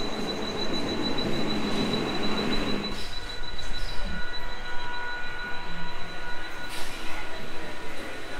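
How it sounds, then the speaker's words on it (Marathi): A Mumbai local train pulls into Dadar station, a loud, close rush of rumbling wheels and carriage noise with a thin high squeal running throughout. The din eases slightly partway through but stays steady and continuous to the end. "माझी ट्रेन आली आहे"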